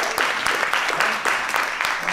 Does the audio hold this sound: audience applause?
yes